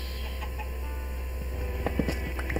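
Chickens cluck in a farming video game, several short, soft clucks near the end over a steady background hum.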